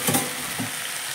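Pointed gourd and small fish curry stirred in a pan, giving brief scraping and soft sizzling bursts near the start and again midway over a steady low hiss.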